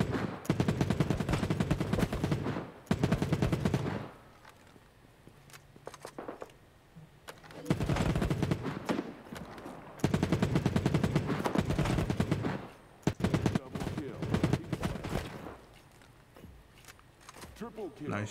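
Repeated bursts of automatic gunfire in the Battle Prime shooter video game, loud clattering volleys coming in several waves with short quieter gaps between them.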